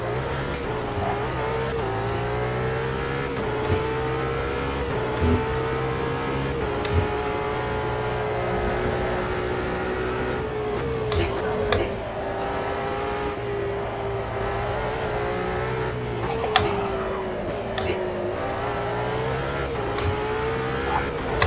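Race cars in a sim racing video game drone and rev continuously, engine pitch rising and falling through gear changes, with other cars audible nearby and occasional tire squeal.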